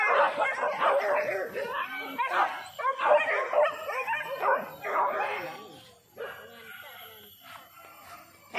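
Several hunting dog barks and yips ring out in quick bursts during a morning hunt over the first half, mixed with people talking nearby, then quieter chatter follows.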